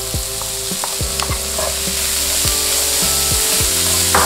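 Green beans and carrot frying in a pan for Tuscan-style rice, a steady loud sizzle with occasional sharp taps of a utensil and a constant electrical hum underneath, no voices.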